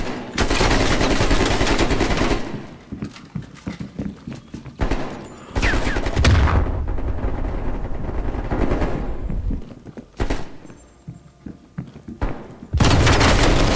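Loud machine-gun fire in Call of Duty Cold War Prop Hunt, long rapid bursts broken by short pauses and booming thuds, close and dominant throughout.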